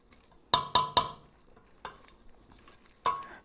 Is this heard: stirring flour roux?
yes